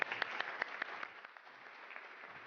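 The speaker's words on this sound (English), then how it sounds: "please, ladies and gentlemen, help me welcome to the stage Joanna Riley Weidenmiller" An audience at a women-in-leadership conference session claps to welcome a speaker to the stage, a faint, steady patter of many hands with a few sharper claps standing out, continuing without talk.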